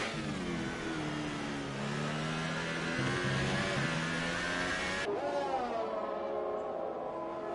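Sim racing car in an F1 game at the Chinese Grand Prix, its engine revving and droning continuously at steady volume with shifting pitch, then cutting down abruptly to a quieter tone near the end.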